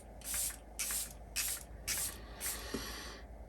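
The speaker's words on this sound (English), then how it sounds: "All right, now we can spray." Five short bursts of Charlotte Tilbury makeup setting spray hiss out in an even rhythm, each lasting about half a second with brief gaps between, close and clear with no talking.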